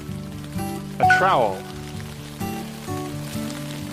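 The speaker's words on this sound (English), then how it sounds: "Our watering can, which we don't need anymore because it's raining." Rain falls steadily on a garden, a soft continuous patter running under a person talking nearby throughout.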